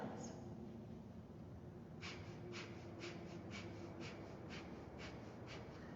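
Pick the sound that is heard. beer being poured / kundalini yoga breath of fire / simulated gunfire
kundalini yoga breath of fire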